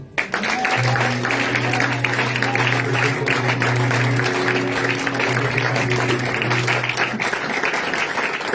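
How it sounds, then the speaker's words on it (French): Church congregation applauding during a special worship service, sustained loud clapping from the crowd with a held organ or keyboard tone sounding underneath. "Donne une bonne acclamation."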